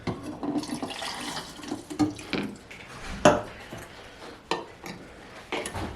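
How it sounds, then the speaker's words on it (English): Fixer solution poured into a film developing tank while processing film at home, a close liquid splash and trickle with light plastic knocks and clinks, no talking. "And then you're going to pour in your fix."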